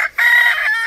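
A Korean native rooster crows once, loud and close, in a single sustained call with no other sounds.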